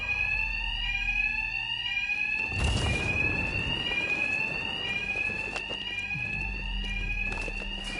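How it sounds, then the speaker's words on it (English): A loud, steady electronic alarm blares continuously with a rising tone in Batman: Arkham Knight, with a burst of crashing noise and scuffling partway through. "these thugs can't hear a thing over the alarms"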